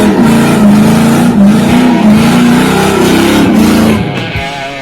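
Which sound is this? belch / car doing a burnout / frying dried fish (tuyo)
car doing a burnout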